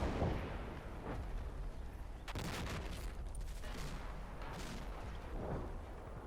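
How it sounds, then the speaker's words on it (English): Small arms fire in the war game Combat Mission Black Sea: a distant, continuous crackle of rifle shots and bursts with several sharper loud reports mixed in, layered over a low rumbling battlefield background. "you can hear lots of small arms fire going on over here"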